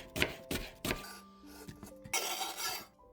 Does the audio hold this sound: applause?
no